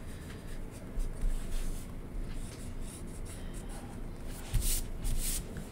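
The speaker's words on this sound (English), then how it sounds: "I'm going to erase any lines I don't want anymore." A pencil eraser rubs back and forth over paper, taking out unwanted lines on a zebra drawing. The scratchy scrubbing is soft and close, in uneven strokes with a few sharper scuffs near the end.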